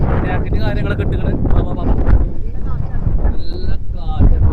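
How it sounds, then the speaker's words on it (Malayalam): Strong wind buffets a boat at sea off Lakshadweep on the way to a scuba dive, a loud continuous roar with engine and water noise beneath, while people talk over it. "നല്ല കാറ്റ്."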